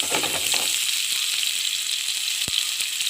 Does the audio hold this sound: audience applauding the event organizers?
no